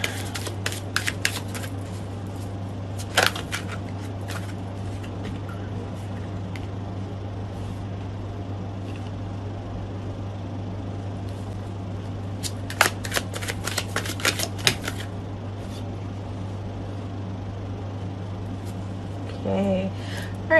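Tarot cards are shuffled in short crisp riffling bursts, near and fairly quiet, over a constant low hum, with a few separate shuffles spread across the stretch.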